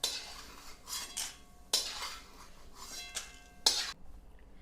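Black peppercorns dry-roasting in a pan for a black garam masala blend, stirred in several bursts of scraping and rattling from a spoon against the metal, with short pauses between strokes and no talking.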